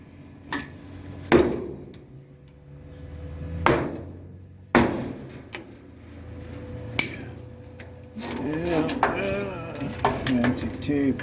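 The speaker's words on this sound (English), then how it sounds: "Let's pound this down with a hammer." Sharp metallic hammer blows pound down the rear body frame of a 1929 Chrysler, several spaced strikes ringing close and loud, followed by clattering metal handling.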